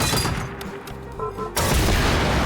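Explosive rounds detonate in the video game Generation Zero, a heavy blast rolling in after a brief lull with distant crackle, loud and close, and the boom sustains to the end.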